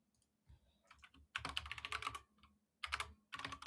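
Heavy typing on a computer keyboard comes through close and loud, in bursts of rapid clacking keystrokes with short pauses between them and no talking.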